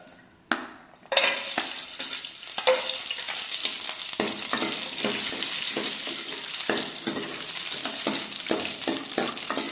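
Steady, close sizzling and crackling of cashews and raisins frying in hot ghee, with a few clinks and stirring noises at the start.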